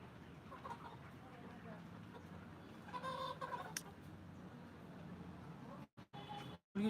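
Layer hens clucking on a poultry farm, a steady murmur of many birds with a few louder calls, dropping out briefly near the end.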